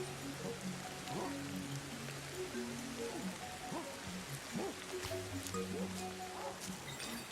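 Rain falls steadily in the video game Ancestors: The Humankind Odyssey, a soft continuous patter under faint animal-like calls and short chirping sounds.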